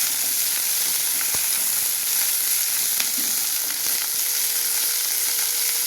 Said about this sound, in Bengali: তেল বসিয়ে দিয়েছি, তেলের মধ্যে একটু কালো জিরে দিয়ে দিয়েছি, গরম হয়ে গেছে।